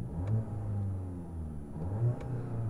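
A 2022 Volkswagen Golf GTI engine revving in sport mode, a steady mid-pitched hum that swells in two brief rises over a few seconds, heard close with no talk.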